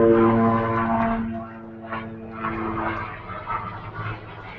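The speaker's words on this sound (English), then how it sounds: "we've got an aeroplane over the top" Aircraft engine droning overhead, a helicopter, loud at first with a steady tonal hum that fades and gives way to a rougher rumble as it passes.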